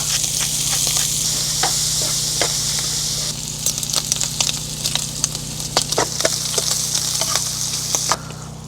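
Garlic hitting hot oil in a frying pan with squid at a beach camp, a loud steady sizzle that thins into crackling pops and spits, close up with no talk.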